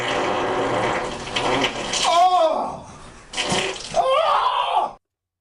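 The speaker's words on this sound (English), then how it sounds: "this is what the Russian drones that they were looking for actually sound like in the water." Russian drones recorded underwater give a churning, gurgling wash of water noise with rising and falling whooshing sweeps, loud and close, cutting off abruptly at the end.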